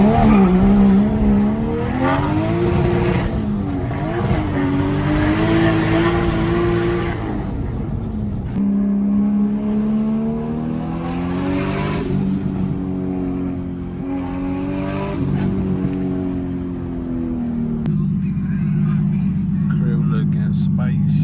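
A Fox-body car fitted with a 1JZ turbo engine drives past, with its engine revving and rising through several gear pulls that come and go over about twenty seconds, loud and fairly close, and a brief tire-squeal character.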